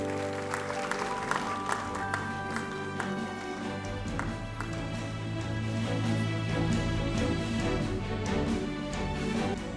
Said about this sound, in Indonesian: Sekali lagi kita berikan tepuk tangan untuk Mbak Isyana dan Mbak Zita.